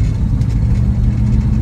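Low, steady engine drone from a 1969 Mustang Grande with a 302 V8 under acceleration, heard from inside the car with a constant rumble and no clear rise in pitch.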